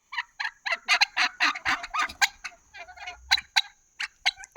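Turkeys at a farmstay poultry area gobble in a quick series of bursts and bubbly calls, fairly close and loud, with short pauses between, no talking over them.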